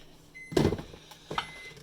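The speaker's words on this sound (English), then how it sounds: "My butter's exploding all over the microwave" Butter bursts and pops inside a running microwave oven, two sharp close spits about a second apart over a low hum.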